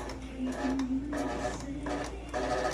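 An electric fan making a noise inside its housing gives a steady mechanical whirring and rattling that swells and eases in rough pulses, close and fairly loud, with no voices.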